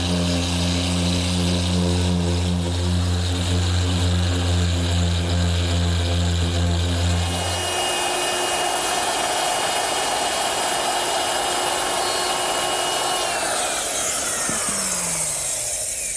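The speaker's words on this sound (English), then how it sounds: "using my random orbit sander to smooth up the edges of the tabletop, smooth those marks left by the bandsaw" A random orbit sander running steadily and loud over the bandsaw-marked edges of a wooden tabletop, with a dense whir and a buzzing hum that shifts partway through as the tool's pressure changes, and no speech.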